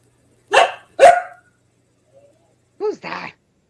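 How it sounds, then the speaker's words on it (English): A dog barks twice in quick succession, loud and close, then after a pause gives two more shorter, higher barks, with no other sound between. "Who's that doggy? He doesn't like my voice, I guess."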